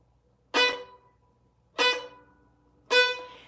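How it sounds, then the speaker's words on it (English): Three separate bowed-string attacks on a violin, each a sharp crunchy onset with a short ringing decay, spaced about a second apart, close and clear with no talking. "That is the sound of your bow just attacking the string"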